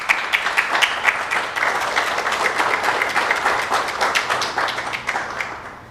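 An audience at an evening lecture applauding: dense, steady clapping from many hands that holds for several seconds and then thins out toward the end.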